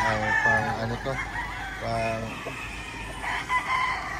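Chickens cluck and a rooster crows repeatedly on a farm, the calls near and loud, overlapping in bursts throughout.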